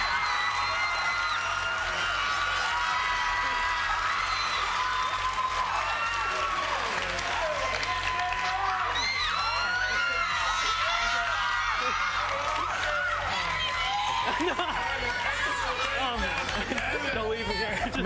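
A studio audience of all ages on its feet for a performance, applauding, cheering and whooping steadily and loudly throughout with dense crowd noise.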